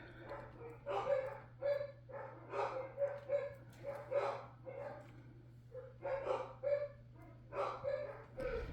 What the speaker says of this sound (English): I hear the dogs.